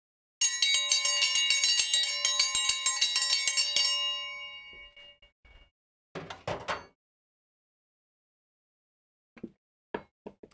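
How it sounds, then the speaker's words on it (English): A dinner bell rings in rapid, clanging strokes for about four seconds, then fades out. Afterward come a few scattered knocks and handling sounds, with long silent gaps between them. "we are going to ring the dinner bell because it is time for dinner"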